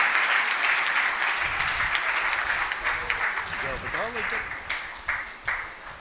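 Audience applause greets an arriving guest at a Buddhist diksha gathering, a sustained, fairly even patter of many hands, with a voice briefly speaking partway through.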